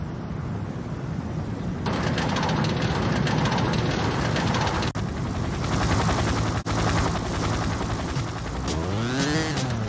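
A helicopter in the driving game Driver: Parallel Lines drones loudly and continuously overhead, its steady rotor and engine roar mixed with vehicle noise, rising in intensity partway through before a brief sweeping tone near the end.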